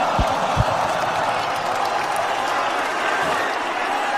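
A wrestling crowd applauds and cheers after a promo exchange, a dense, steady wash of clapping and crowd noise heard at moderate distance with a couple of sharp claps standing out early.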